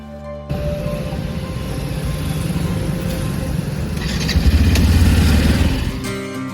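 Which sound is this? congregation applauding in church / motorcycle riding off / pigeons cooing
motorcycle riding off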